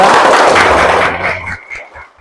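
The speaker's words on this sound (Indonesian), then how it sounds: "Tepuk tangan untuk kelompok" A primary-school class bursts into a loud, dense round of applause that quickly thins out and fades to a few last claps within about two seconds.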